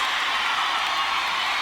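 A live concert crowd in Buffalo, NY, roars and cheers as one steady, dense wash of noise, loud and unbroken throughout, with no clear individual voices.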